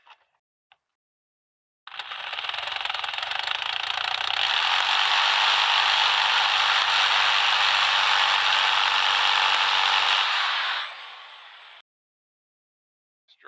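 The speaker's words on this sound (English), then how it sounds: "this drill bit's just skating all the way across there" A power drill whirs and grinds against metal, the bit skating across a car ignition lock, for about eight seconds with a harsh, steady buzz, then winds down into silence.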